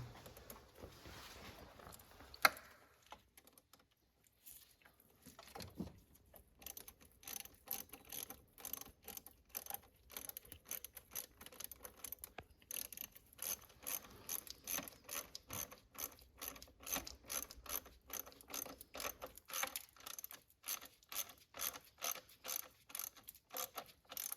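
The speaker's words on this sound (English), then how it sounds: "Use a small wrench, then use a big wrench, and you'll be fine." Wrench ratcheting on a bolt during camshaft adjuster magnet and position sensor work on a Mercedes-Benz engine, quick repeated clicks in steady bursts, faint and close, growing more regular toward the end with no voices.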